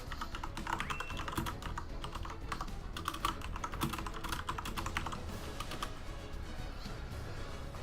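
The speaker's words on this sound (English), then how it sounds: "I'm just typing stuff in here." Rapid, dense keystrokes on a computer keyboard patter in close succession, fairly quiet and steady, with bursts of fast typing and a low background hum.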